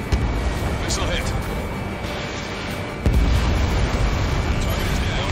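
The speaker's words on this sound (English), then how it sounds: "Missile hit." A missile strikes its target and explodes in Ace Combat 7: a sudden deep boom swells partway through a continuous roar of jet noise, with radio voices talking over it.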